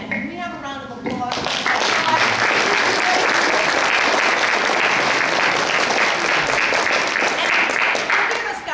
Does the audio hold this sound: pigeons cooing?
no